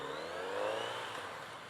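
A 2018 Kawasaki Z900RS naked motorcycle revs hard, its engine note climbing and holding steady as a continuous, fairly loud mid-pitched drone with no voices.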